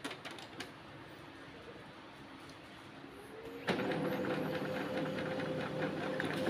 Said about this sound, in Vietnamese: mình sẽ ấn nút roll 3 lần để in ra cái trang setting